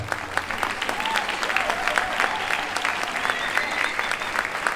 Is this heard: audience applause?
yes